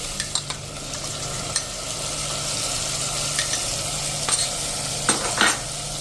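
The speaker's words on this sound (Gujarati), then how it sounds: "અને હવે એમાં આપણે આ જે ટમેટા અને મસાલો મિક્સ કર્યો છે ને, એ હવે અત્યારે આ સ્ટેજે નાખી દેશું." Tomato and spice mixture added to hot oil for rasiya bhat, giving a steady sizzle and frying hiss close up, with scattered clinking taps of a spoon stirring against the pan.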